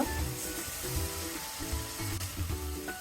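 Fried onions sizzle in a pan as a little water goes in, while a Bengali curry of bottle gourd and shing fish is being cooked. A steady, close hiss and crackle runs throughout, with faint tonal tones underneath.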